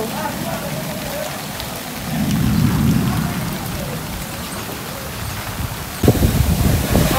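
Heavy rain pours steadily during Cyclone Mocha, with low thunder rumbling midway and a sharper crack of thunder near the end, all close and loud with no talk.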